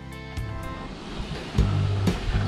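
Water from a campsite tap at a touring park runs into a container, a close rushing gush in short bursts that rises and drops off.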